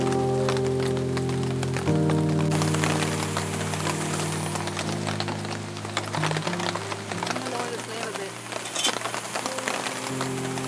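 Heavy rain pouring down at a campsite, a steady dense drumming of drops on nearby surfaces lasting throughout, with faint talk and a low hum underneath.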